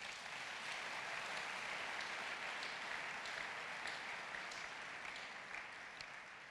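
A church congregation applauding during a French-language worship service, with dense, steady clapping at an even loudness throughout and no talk over it.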